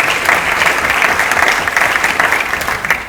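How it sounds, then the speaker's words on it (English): A debate audience for lieutenant governor candidates breaks into steady, dense applause that carries on evenly for about three seconds before starting to taper. "Round of applause for them as well."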